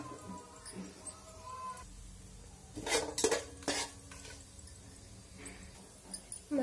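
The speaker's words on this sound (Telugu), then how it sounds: "ఆయిల్ వేడయ్యాక ఇప్పుడు మసాలా ఐటమ్స్ వేసేద్దాము।" Whole masala spices going into hot oil in a pan for veg biryani: faint sizzling under clinks and scrapes of a utensil against the pan, with a louder burst of clatter midway, at close range.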